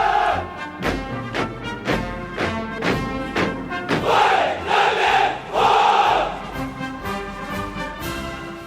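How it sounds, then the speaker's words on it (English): Chinese troops at a Beijing military parade shout a salute to President Xi Jinping, their massed voices rising in loud rhythmic bursts over a heavy crowd roar that swells and fades through the clip. "That's the sound of Chinese troops saluting President Xi Jinping as he rode the entire length"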